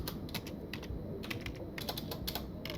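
Quick, close keystrokes on a computer keyboard clatter in short irregular bursts while the player types commands in the text adventure game Stories Untold; no one speaks.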